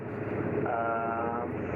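A Piper Comanche's piston engine idles steadily in a broad, even drone that holds at constant loudness throughout, heard from inside the cockpit.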